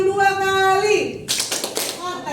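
A teacher's voice gives way to a quick series of sharp hand claps in a tepuk ayam clapping game, the claps close and crisp, following in a rhythmic run.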